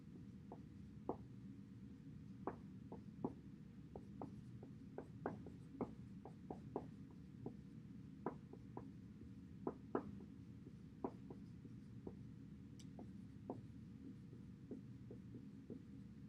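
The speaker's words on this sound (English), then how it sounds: "Let's go ahead and write that on the board." Marker or chalk writing on a board in a classroom lecture gives faint, scattered taps and short strokes over a low steady room hum, with no talking.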